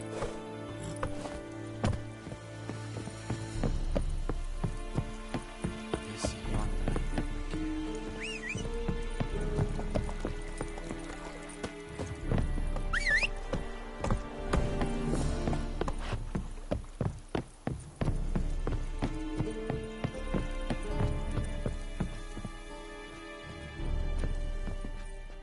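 A horse gallops in The Witcher 3, with rhythmic hoofbeats pounding under layered game music that runs throughout, the clopping fading in and out.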